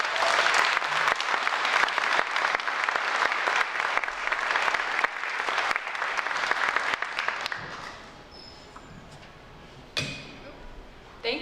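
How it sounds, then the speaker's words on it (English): A crowd applauds artists at a reception honoring women artists, dense sustained clapping for about eight seconds that thins into scattered claps and a few light clinks before a final burst. "please give them all a round of applause now"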